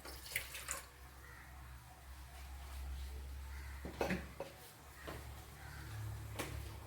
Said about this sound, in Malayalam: ഒരു ശകലം വെള്ളം ഒഴിച്ചു കൊടുക്കുക